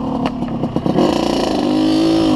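A motorcycle engine close by, clattering at idle and then revving up steadily as the bike pulls away, a continuous rising drone with no talk.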